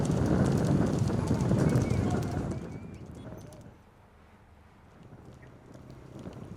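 Hooves clatter loudly along a road during a horse cart race, a dense rush of clip-clops that fades away as the horses pass, while a voice talks over it.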